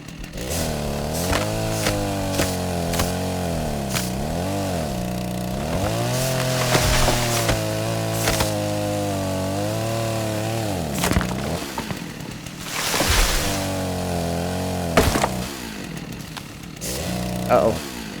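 A chainsaw in the video game Rust cuts into a tree, its motor droning steadily and rising and falling in pitch through repeated revs, with brief knocks and thuds over the buzz and a voice speaking briefly.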